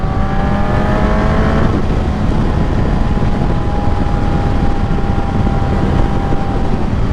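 A 2024 Suzuki GSX-S1000 motorcycle is ridden fast, its engine shifting up through sharp rising tones and then holding a steady, loud drone with strong wind roar.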